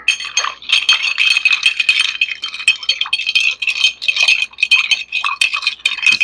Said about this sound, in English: Now let's add a little bit of ice. And then give it a quick stir.